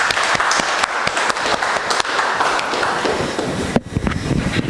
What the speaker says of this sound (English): With a resounding round of applause in-house, we'd like to clap